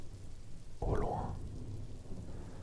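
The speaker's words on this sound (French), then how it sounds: "un orage qui gronde" Rain patters steadily while a distant thunderstorm gives a single soft rumble that swells briefly and fades back into the hiss of falling rain.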